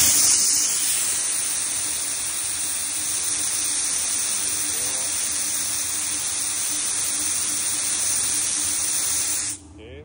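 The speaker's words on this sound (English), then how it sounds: "Okay, let's go to put the wet steam mode." A steam cleaner in wet steam mode sprays a loud, continuous hiss that holds steady for nearly ten seconds, then cuts off abruptly.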